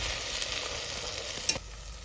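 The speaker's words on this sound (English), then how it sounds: "I'll pop this in there with the tomato. I'm going to give it a little stir." Tomato stirred in a hot frying pan with olive oil for lentil stew, a steady close sizzle and frying hiss with a brief scrape of the utensil near the end.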